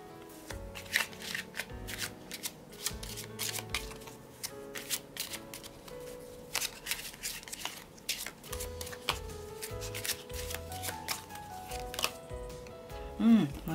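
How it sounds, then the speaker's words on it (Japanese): Tarot cards are shuffled by hand in rapid bursts of riffling and flicking, close and crisp, with short pauses between runs and no talk. "ちょっと補足も1枚引きたいと思います"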